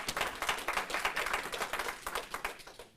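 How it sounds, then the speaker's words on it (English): A modest crowd claps at an annual general meeting, a fairly quiet, uneven patter with individual claps standing out in a loose pulsing rhythm. "And a round of applause to the three of you."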